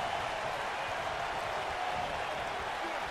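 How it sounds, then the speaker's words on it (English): Arena crowd in the wrestling game WWE 2K19, set in Philadelphia during a Finn Balor versus Brock Lesnar championship match, a steady dense roar of cheering and applause at moderate level throughout. "We've got a raucous crowd here in Philadelphia tonight"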